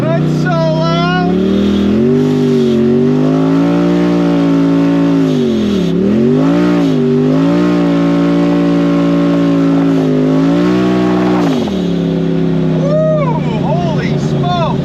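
Polaris RZR Turbo S with an aftermarket exhaust revving loudly up close, a sustained roar with dips and swells in pitch, while people shout excitedly over it.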